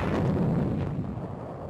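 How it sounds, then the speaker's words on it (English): Artillery guns fire on Japanese positions near the bypassed hills of Okinawa during World War II, producing a heavy, rolling boom that rumbles and slowly fades. "Guns are set up to blast Jap positions which have been harassing supply lines in range of the bypassed hills."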